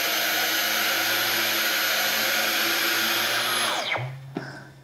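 Dyson V15 Detect cordless vacuum cleaner running on medium mode, a loud steady high-pitched whine held for about four seconds, then spinning down sharply, followed by a short click.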